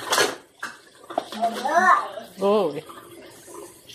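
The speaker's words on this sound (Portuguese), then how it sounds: "Vou passar uma água nela aqui rapidinho." Beef tongue being rinsed under running tap water in a home kitchen, a splashing stream with a clank of dishes, while a child and an adult speak over it.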